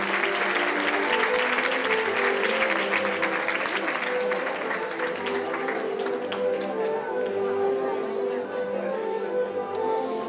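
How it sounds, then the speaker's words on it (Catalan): Strong crowd applause at a Valencian falla presentation ceremony, loud and sustained clapping from a large audience with a faint tonal hum of voices or music underneath. "despedim a la falla al portal amb un fort aplaudiment."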